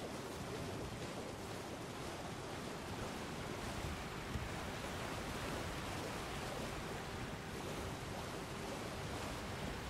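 A waterfall in Elden Ring gives off a steady, dense rushing roar of falling water, constant and unbroken throughout with no voices.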